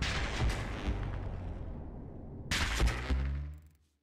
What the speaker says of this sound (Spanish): ¿Has oído también una explosión a lo lejos?